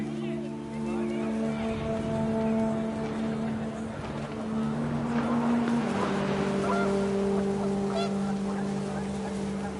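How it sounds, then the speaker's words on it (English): Panicked geese honk in the video game What Remains of Edith Finch as the wind picks up outdoors. Steady, overlapping honking tones carry on throughout at an even level, blended with a windy background. "The wind picked up, and panicked geese appeared and quickly went."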